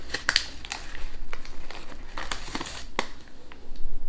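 A chocolate bar wrapper crinkles and crackles close up as it is opened by hand, in irregular sharp bursts of rustling plastic, with no speech over it.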